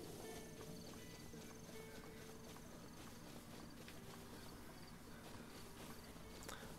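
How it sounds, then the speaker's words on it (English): Wild horses' hooves clip-clop faintly in Zelda: Breath of the Wild, a soft, irregular patter of steps over a quiet outdoor game ambience. "Oh, there's wild horses."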